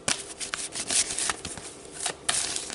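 Tarot cards shuffled and pulled by hand, close up, with crisp riffling and papery slides in several quick bursts separated by short pauses.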